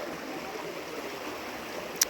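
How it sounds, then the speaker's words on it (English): Minister Creek flowing beside a campsite next to a hiking trail, a steady broadband wash of running water close by, continuous and even, with one brief sharp click near the end. "There's Minister Creek right here."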